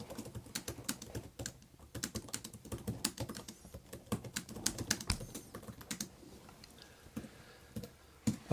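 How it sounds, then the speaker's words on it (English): Typing on an E Ink keyboard folio produces quick, irregular clicky keystrokes, close and fairly quiet, continuing steadily for several seconds with brief pauses and no talk. "let's go ahead and start typing and see what that looks like"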